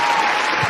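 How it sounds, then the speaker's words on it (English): Brief burst of audience applause during a live radio broadcast, a dense steady wash of clapping, loud and unbroken. "Let's give them a round of applause as they come."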